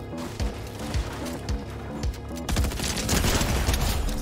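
Rapid bursts of gunfire in a Fortnite Chapter 4 Arena match, with repeated shots early and a denser, louder barrage in the second half; no talk.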